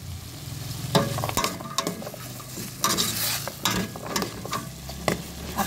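Long beans are stirred in a hot cooking pot for a Filipino vegetable dish, producing a soft sizzle with irregular scrapes and clinks of a utensil against the pot, close and moderately loud.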